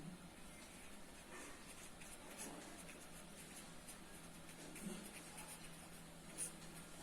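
Chalk or marker scratching out a physics equation on a classroom board, a soft continuous scraping with small taps, faint and steady, with no voices.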